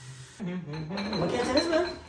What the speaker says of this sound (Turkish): bugün bulaşık makinesindeki bulaşıkları nasıl toplanacağıyla birlikteyiz